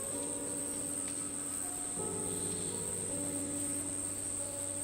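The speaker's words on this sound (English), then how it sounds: "and it's a cricket" A cricket chirping in an Unreal Engine game scene, a continuous high, steady trill over a quiet ambient bed with soft tonal hums.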